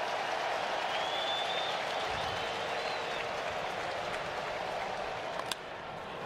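A baseball stadium crowd roars and applauds steadily, a dense wash of cheering that holds at the same level throughout, with a brief sharp crack near the end.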